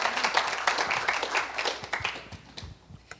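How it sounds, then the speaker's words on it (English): Audience applause at a goal-setting seminar, a brief burst of clapping from a room of people that thins out and fades over a few seconds. "Give Michael a big hand clap."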